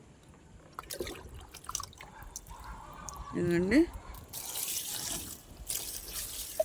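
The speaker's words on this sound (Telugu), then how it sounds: "ఒక నాలుగు లీటర్లు పోస్తానండి దీంట్లో అంటే వాటర్ కలిపింది అన్నమాట" Water-diluted OWDC organic waste decomposer liquid poured onto plants, a short splashing pour rising midway through, with a person talking nearby.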